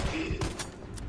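Gunshots in Resident Evil 3 on Nightmare difficulty, a few sharp shots fired in quick succession against a dense, noisy game background.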